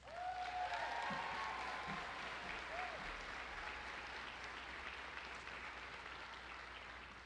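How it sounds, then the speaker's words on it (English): Graduation audience applauding the salutatorian, a soft, distant wash of clapping that stays even throughout, with faint whoops and murmurs from the crowd. "Please give a round of applause for our salutatorian, Ms. Tamara Arnavias."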